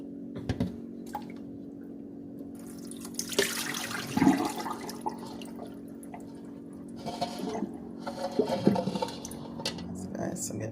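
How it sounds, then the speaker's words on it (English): Rinse water from washed raw chicken strained off and poured out of a bowl, a steady running, splashing stream with a couple of sharper sloshes, heard close with a voice talking alongside. "now I'm gonna strain this water off."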